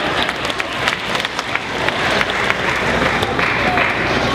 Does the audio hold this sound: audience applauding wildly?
yes